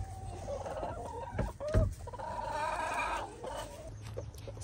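Chickens in a coop with a broken heater, clucking and calling continuously, with one louder, sharper call standing out partway through and several overlapping birds close by.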